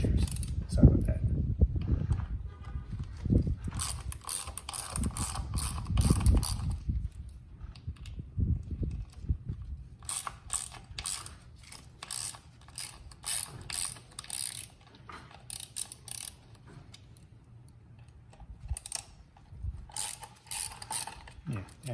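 A hand ratchet clicks in quick bursts as nuts come off the primary cover of a Harley-Davidson Dyna Street Bob motorcycle, with low handling noises and some speech between the rapid, close ratcheting runs.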